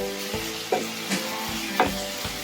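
Onions frying in oil in a pan for tomato sugo, a steady soft sizzle broken by a few scraping stirs, close and moderately loud with no voices.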